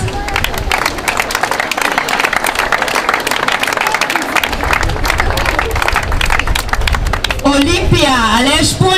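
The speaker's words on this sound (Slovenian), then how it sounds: "Še aplavz." Audience applause at a Slovenian national championship, dense continuous clapping from a large crowd that swells midway and carries on, with a voice talking over it near the end.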